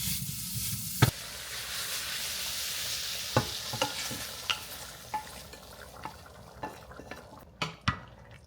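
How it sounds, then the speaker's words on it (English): Sausages sear in a pan for a Romanian beef, sausage and potato stew, giving a steady close sizzle broken by scattered metallic scrapes and taps of stirring. "We're going to sear the sausages now before we put it in the Dutch oven."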